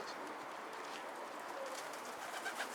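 A milk-white tumbler pigeon coos faintly and softly amid a steady background hiss, the calls low and barely rising above the ambient noise.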